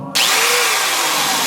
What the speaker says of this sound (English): This drill is either on or off.